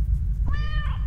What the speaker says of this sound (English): Kitty, what do you think? What do you think, Kitty?